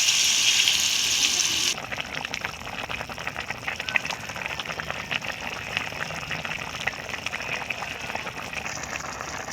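Water pours into a cabbage and potato curry as it cooks, a brief loud splashing gush. A softer, steady bubbling sizzle from the pan follows, close by.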